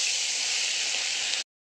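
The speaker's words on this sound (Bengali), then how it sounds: "আমি এবার পার্শে মাছগুলোকে সব আগে ভেজে নেব।" Parshe fish fry in hot oil in a kadai, a dense, close, steady hissing sizzle that cuts off abruptly.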